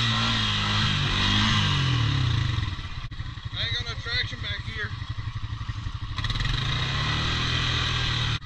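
A four-wheel-drive vehicle's engine roars loud and close, dips into a rough, rattling pulse for a few seconds while faint voices sound over it, then swells back to a steady, strained drone.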